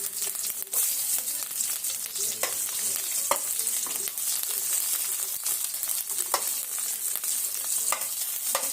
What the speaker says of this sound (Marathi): आता ही कांदा मिरची आपल्याला व्यवस्थित अशी परतून घ्यायची आहे